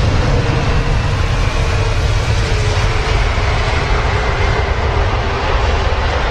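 Jet airliner landing at London Heathrow, a loud, steady broadband engine roar close by that holds throughout without a break.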